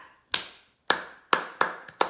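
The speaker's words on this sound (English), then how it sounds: "We're going to go clap, clap, clap, clap, clap." Hands clapping in a body percussion lesson: five sharp, close claps in an uneven rhythm, each with a short ringing decay, heard alone with no talking.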